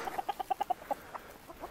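Free-roaming farmyard chickens on a Brazilian farm where peafowl are kept cluck in a quick, steady run of short notes that slows and fades, close by and with no talking over them.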